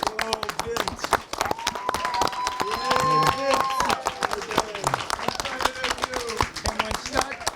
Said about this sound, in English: Let's give Vinny a round of applause.